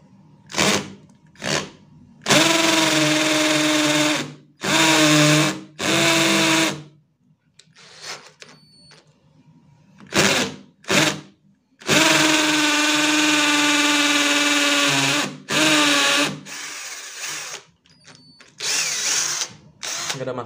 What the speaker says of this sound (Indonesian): saya mau cek buat coba ngebor tembok ya